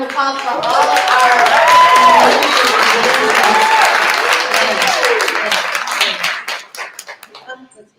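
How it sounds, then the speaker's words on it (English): Audience applause at a narrative monologue competition, a loud sustained crowd clapping with cheers and whoops on top, breaking into scattered claps near the end. "let's have another round of applause for all of our"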